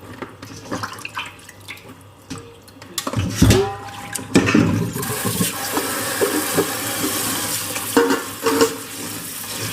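Straw mushrooms being washed by hand in a basin of water, with sloshing, swirling and splashing that grows busier midway and continues steadily, close and fairly loud.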